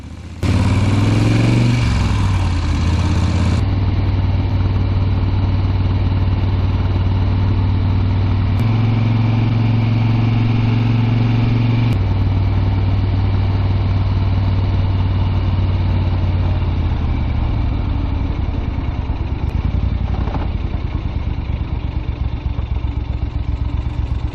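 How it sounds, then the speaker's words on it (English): An old Moto Guzzi Eldorado motorcycle engine runs continuously with a low, throaty, mellow exhaust and clacking valves, its pitch shifting as it revs and settles. "the Eldorado's valves clacking away, and its exhaust sounding mellow and fruity"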